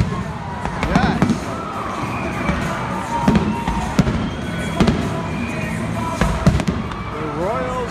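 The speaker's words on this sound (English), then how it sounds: "We have fireworks." Fireworks burst at Royals Stadium in Kansas City after a Friday night game, a series of loud booms and sharp cracks at irregular intervals over a murmuring crowd, with voices heard in the stands.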